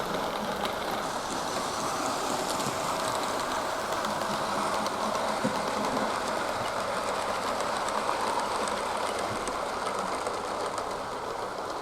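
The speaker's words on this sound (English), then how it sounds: "The motion is to scale, there's no wobble. The lovely bogie tender rides magnificently." A Hornby Big Four King Arthur model locomotive with a bogie tender runs steadily, giving a continuous close rattling rumble with faint rhythmic clicking and no voices.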